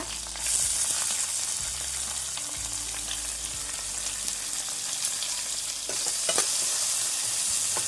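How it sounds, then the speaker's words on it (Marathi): Chopped onion hits hot oil already holding curry leaves and green chilli for rava upma, setting off a strong, steady hiss with light stirring clatter near the pan. "आता मी ऍड करत आहे त्यामध्ये कांदा"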